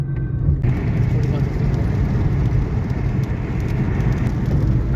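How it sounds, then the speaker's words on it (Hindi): Rain falls on a moving car during a drive, a constant drumming hiss over the low rumble of the road and engine, steady throughout. "फिर बारिश स्टार्ट हो गई।"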